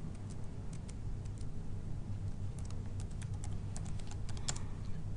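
Computer keyboard being typed on while writing SAP ABAP program code: quick irregular clicks of keystrokes over a low steady hum, close but quiet.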